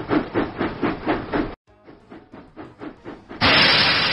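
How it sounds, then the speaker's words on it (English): Rhythmic steam puffs from a locomotive in a Thomas the Train video game chug steadily, break off after a short gap, and then give way to a loud, sustained hiss of released steam. "James puffed proudly into Tidmouth Sheds."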